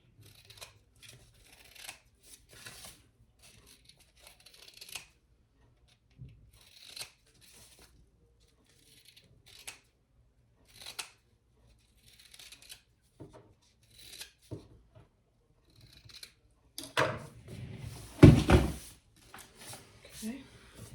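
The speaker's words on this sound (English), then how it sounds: "I'm just gonna trim my corners." Scissors trim the corners of fabric while a Brix Bag crossbody is sewn, giving faint, sparse snips with quiet talk scattered throughout and a louder cluster of cutting and rustling near the end.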